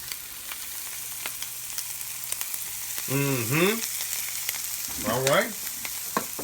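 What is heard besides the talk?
omelette with sausage seasoning frying on a hot stove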